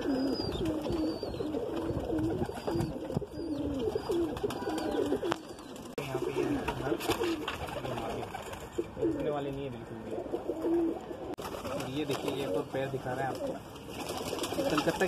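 Madrasi pigeons coo continuously in soft, throaty, repeating phrases, several birds close by, with faint rustling and background noise.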